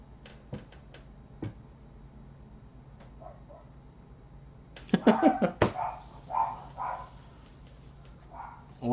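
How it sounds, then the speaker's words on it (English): Small dogs bark indoors in a short flurry of sharp, fairly close yaps, preceded by scattered ticking and clicking noises in a quiet room. "Those dogs combine to weigh like 40 pounds, and they bark at something like they could do something to it."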